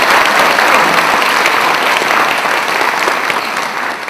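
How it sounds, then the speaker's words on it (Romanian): Sustained applause from a concert audience for the Unirea Chamber Orchestra in Focșani, dense and steady clapping filling the hall throughout, easing slightly toward the end. "Aplauze, vă rog!"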